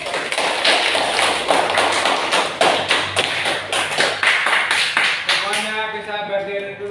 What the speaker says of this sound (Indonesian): Oke, semuanya tepuk tangan dulu.